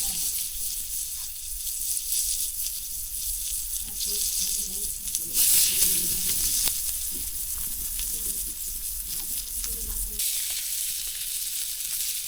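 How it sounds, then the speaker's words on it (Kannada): Muru reef cod pieces frying in masala on a hot tawa, a close, steady hiss and crackle that swells briefly in the middle, with faint background murmurs. "ಮೀನನ್ನು ತವಾ ಮೇಲೆ 5 ನಿಮಿಷ ಫ್ರೈ ಮಾಡಿ"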